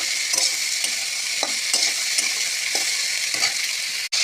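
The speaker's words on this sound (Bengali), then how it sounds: "নাড়াচাড়া করে মিক্স করে দেবো" Tomato and potato stirred in a frying pan: a constant bright sizzle broken by several soft scraping strokes of a spatula at irregular intervals, close and without talk, ending on a sharp knock.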